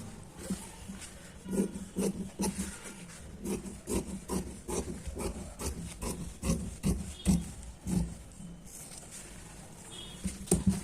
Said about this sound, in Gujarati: આપણે ફરતી બાજુ કપડું છોડી દીધું છે તે આપણે કટ કરી લેશું